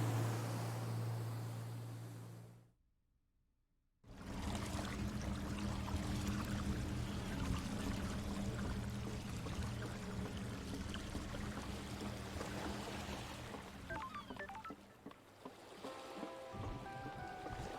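Continuous rushing water in the video game Paradise Killer, steady and fairly loud, cutting out briefly near the start before resuming with a full wash; faint chimes surface near the end.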